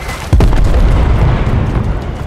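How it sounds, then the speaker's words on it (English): A mortar strike explodes in the Modern Warfare 3 game campaign with a sudden heavy boom, then a loud sustained rumble that fills the rest of the moment. "Solid copy, mortar strike inbound."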